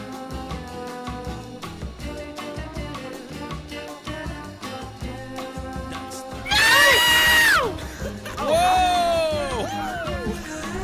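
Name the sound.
scream alert sound effect played on stream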